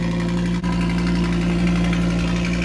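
A loud tuned Audi RS3 or TTRS engine runs steadily at a rough, throbbing idle, close and continuous, with one brief dip in the drone.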